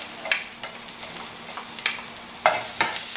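Green chilies and onions fry in oil with ginger and garlic in a pan, a soft steady sizzle punctuated by several sharp scraping stirs at irregular intervals, close and fairly quiet.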